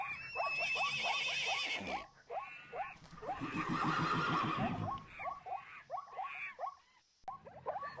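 A horse neighs in a shrill, quavering whinny, repeated in several bursts at moderate volume alongside faint chirping background noise.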